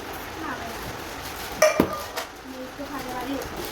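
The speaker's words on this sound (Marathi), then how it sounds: "पॅन आणि कढई" Metal pans and a wok clatter and clink as they are moved about, with a sharp clang in the middle and softer knocks around it, faint voices in the background.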